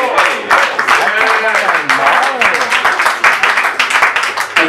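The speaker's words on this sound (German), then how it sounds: "Applaus!" Audience applause at a German literary reading of Eckhart Nickel's novel, a dense, steady wash of clapping lasting the whole stretch, with voices and cheering mixed in above it.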